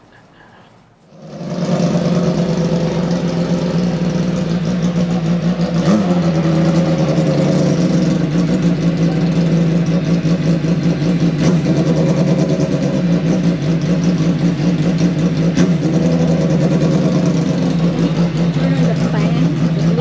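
Race car fitted with new Avon tyres, tested at Eagles Canyon Raceway, starts up and settles into a loud, steady engine drone with slight surges in revs. It runs continuously and sounds close.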